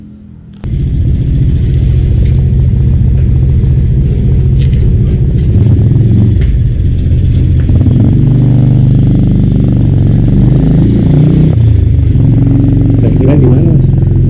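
A Suzuki TS motorcycle engine runs steadily at close range, a continuous loud idle with slight rises in pitch, while people talk nearby.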